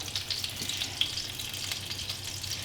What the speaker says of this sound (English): Now I'm gonna start putting these meatballs in here.